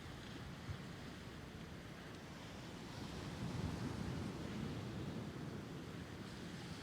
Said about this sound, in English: sound of the waves here.